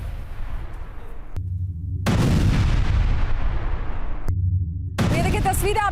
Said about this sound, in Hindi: जोरदार मिसाइल से देखिए इस इमारत पर अटैक होता है और उसके बाद पूरी इमारत में आग लग जाती है